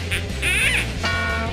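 A cartoonish duck quacks in the You Don't Know Jack trivia game, a few nasal, raspy quacks in quick succession, loud and close over a steady low hum of game music.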